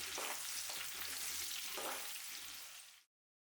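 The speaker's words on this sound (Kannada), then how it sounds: "ಇದಕ್ಕೆ ಟೊಮೊಟೊ ಸೇರಿಸ್ಕೊಂಡು ಎಲ್ಲನೂ 1-2 ನಿಮಿಷ ಎಣ್ಣೆಯಲ್ಲಿ ಫ್ರೈ ಮಾಡ್ಕೋಬೇಕು." Tomato and onion frying in oil for a ridge gourd dish, a steady close hiss with a few stirring scrapes, cutting off abruptly near the end.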